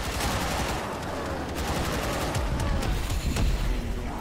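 Rapid machine gun fire rattles continuously in the Warframe video game, dense overlapping bursts and booms layered with explosive impacts, loud and unbroken for the whole stretch.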